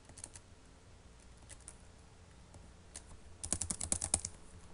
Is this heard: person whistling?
no